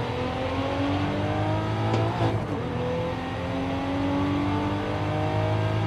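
A 2022 Cadillac CT4-V Blackwing V6 engine in the video game Forza Horizon 5 revs steadily and loudly with a rising, whirring tone, a brief dip and surge midway, then holds a sustained high drone.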